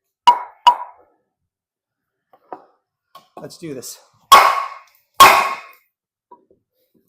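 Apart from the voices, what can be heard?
kukri knife chopping through material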